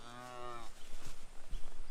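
A black cow gives one close, drawn-out moo that cuts off abruptly, followed by outdoor rustling and a few soft thumps and knocks on a homestead.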